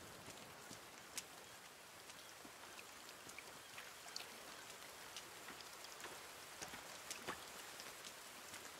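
Steady rainfall in the video game The Forest patters down on surfaces, a dense even hiss with scattered louder drops, continuous throughout with no voices.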